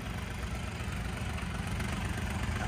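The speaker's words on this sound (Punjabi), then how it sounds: "ਐ ਤਾਰੇ ਜਾਂਦੇ ਆ ਟਰੈਕਟਰ" A tractor engine idles with a steady, rough low rumble and faint knocking, loud and continuous throughout, no voices.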